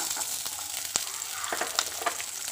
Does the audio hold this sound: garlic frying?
yes